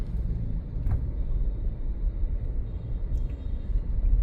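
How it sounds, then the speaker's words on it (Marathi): Low, steady rumble of idling vehicles from a traffic jam of stopped trucks on a highway near the Assam border, continuous and fairly close, with no voices. "ट्रक सगळे थांबले आहेत रस्त्यावरती आणि ट्रॅफिक जॅम झालं आहे"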